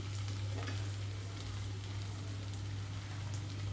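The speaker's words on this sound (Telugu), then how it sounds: "ఇందులోకి నేను కట్ చేసి పెట్టుకున్న ఆకుకూరలు మొత్తం వేసేస్తున్నానండి" Chopped amaranth and spinach greens hit a pan with ginger-garlic paste already fried in it, giving a continuous close sizzle like light rain, loud and even throughout, over a steady low hum.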